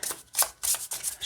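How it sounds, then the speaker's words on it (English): A small 24-card deck of rune cards is shuffled up close, with several quick, crisp riffling bursts separated by brief pauses, fairly soft and with no talking. "Shuffles great this way."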